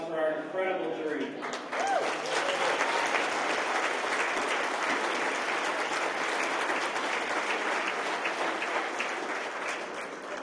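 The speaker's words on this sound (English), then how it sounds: "please give a quick round of applause for our incredible jury" An audience at an award celebration applauding the jury, a dense, sustained round of clapping that starts after a brief voice and fills the room evenly before easing slightly at the end.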